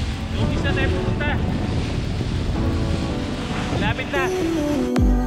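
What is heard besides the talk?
motor boat (bangka) cruising on the sea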